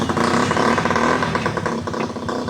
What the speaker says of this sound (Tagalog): ang lakas naman ng motor